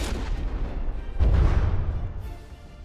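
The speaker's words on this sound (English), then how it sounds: "the whole ship got pushed downward into the water from that explosion" Ship explosion in the naval combat game From the Depths, a heavy deep boom erupting after a stretch of rumbling battle noise, then a long fading low roar, with no voices.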